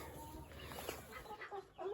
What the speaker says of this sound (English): in with all the laying hens